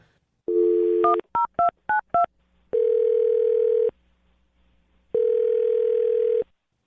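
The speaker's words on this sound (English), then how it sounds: "I'm going to dial her phone number right now." A quick run of telephone keypad tones, six short beeps in a row, followed by two long steady dial tones, loud and close with no talking.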